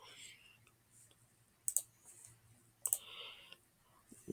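A computer mouse clicking while a website is edited in the Wix editor: two sharp, crisp clicks about a second apart, close and fairly quiet, with soft whispery breathing and a low hum between them.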